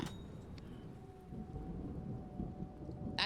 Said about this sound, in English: let's get in out of the rain and thunder.